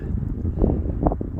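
Wind on a cold, snowy Arizona Trail morning buffets the microphone in a steady low rumble with gusty surges, close and loud, with no voices.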